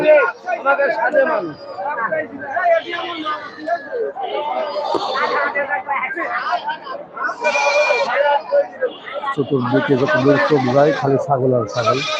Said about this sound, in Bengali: অসম্ভব সব সুন্দর সুন্দর সব ছাগলগুলো